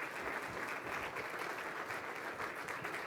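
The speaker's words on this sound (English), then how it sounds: "How about a round of applause for all those children as you take your seats?" Audience at a city State of the City address applauding children as people take their seats, a faint, muffled, continuous wash of clapping heard from a distance.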